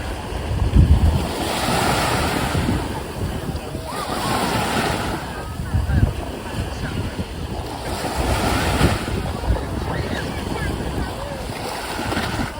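Ocean waves washing onto the seashore at Hsinchu at sunset, a continuous roar of surf swelling and receding in slow surges, mixed with heavy wind buffeting the microphone and no clear talk.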